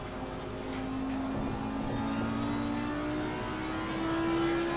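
Race car at full throttle in Assetto Corsa Competizione, a steady engine drone with a rising tonal whine climbing in pitch as it accelerates, continuous and moderately loud with no talk.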